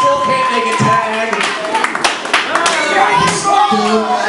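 A wrestling crowd cheers and claps rhythmically for Zakk Sawyer during a six-man tag match, with a commentator talking loudly over the noise.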